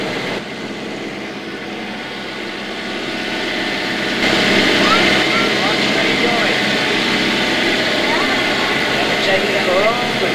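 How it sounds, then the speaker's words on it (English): A boat engine drones on a river, a loud continuous hum that swells after a few seconds and holds steady, close by, with faint shifting tones over it. "I told you how fast the engine's going."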